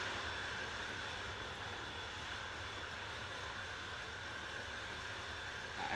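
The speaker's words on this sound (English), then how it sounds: "That just sounds like a jet engine." Jet engine roar in the video game ArmA 3, a constant broad whooshing drone that holds steady and fairly quiet throughout, with no voices.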